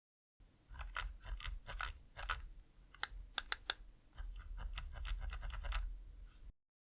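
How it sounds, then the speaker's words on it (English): A Hitscan Hyperlight mouse scroll wheel with a TTC Gold dust-proof encoder and defined notches, clicking up close in quick bursts of crisp ticks separated by short pauses, with no talking. "the scroll wheel is the TTC Gold dust-proof encoder, which has defined scrolls that are easily distinguishable"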